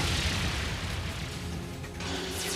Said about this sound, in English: Grummer cannon, fire!